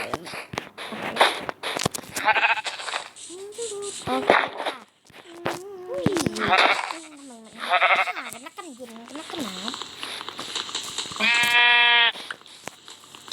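Minecraft sheep give several short, nasal bleats in a game, mixed with clicks and footsteps, while a player talks over most of it. The loudest bleat comes near the end.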